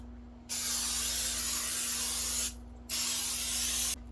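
Cooking oil is sprayed onto a sandwich maker in two long hissing bursts, a brief gap between them and a third starting at the end, over a low steady hum.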